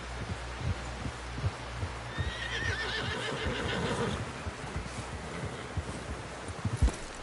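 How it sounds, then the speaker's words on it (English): A horse in the video game Red Dead Redemption II gives a drawn-out whinny midway, set against a dense, steady backdrop of game ambience and low thumping. "Someone help John down off this horse."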